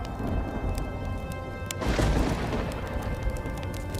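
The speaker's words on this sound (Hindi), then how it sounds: "आसमान में काले बादल छा जाते हैं और जोर जोर से बिजली कड़कने लगती है" A thunderclap bursts out of a steady wash of storm rain under dark clouds, swelling into a deep rolling rumble midway through before settling back into the patter of rain. No one speaks.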